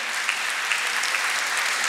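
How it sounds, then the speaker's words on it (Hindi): Dense audience applause at a Hindi comic poetry gathering (kavi sammelan), a steady close wash of many hands clapping with no pause. "आप तालियां बजा बजा के थक चुके हैं"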